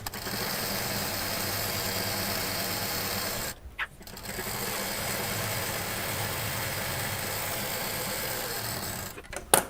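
An electric sewing machine stitches along a fabric belt for a patchwork sling bag, running in a steady close whir that pauses briefly once before resuming, with faint talk.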